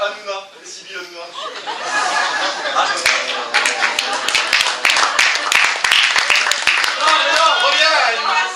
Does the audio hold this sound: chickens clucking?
no